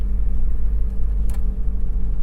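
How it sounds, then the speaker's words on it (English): Steady low engine rumble of a 1995 Toyota Tamaraw FX GL diesel SUV cruising, a constant droning hum with road noise and a brief higher whoosh midway. "driving the Toyota Tamaraw FX GL diesel, top of the line spec."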